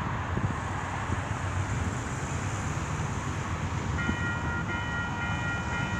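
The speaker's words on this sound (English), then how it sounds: "It's a CP train." A CP freight train passes a level crossing on Plessis Road, a steady, continuous rumble of rolling railcars with wind noise, while crossing bells ring in the final two seconds.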